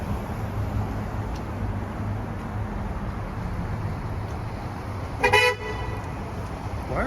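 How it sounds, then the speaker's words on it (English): A car horn blares once on a wintry Toronto street, a short loud honk near the end, over steady traffic and road noise. "Why are you honking?"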